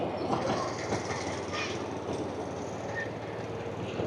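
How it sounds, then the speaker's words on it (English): A small mini train rolls past on a downtown Toronto street, a steady near rumble with faint rhythmic clatter that holds throughout and carries no talk over it. "Look at this little mini train going through."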